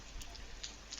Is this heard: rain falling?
yes